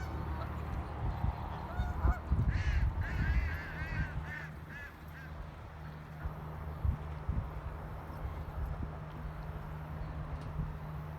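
Several geese honk in a short, clustered burst near the start, with a few scattered calls following over steady low outdoor background rumble; no one speaks.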